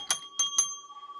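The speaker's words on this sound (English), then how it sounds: "And obviously I got the little hotel bell too." A small hotel desk bell from a Disney collection rings three times in quick succession, bright and close, each strike leaving a thin metallic ring that fades out alone.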